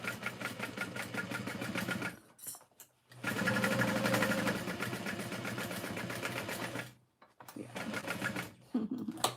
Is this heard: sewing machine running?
yes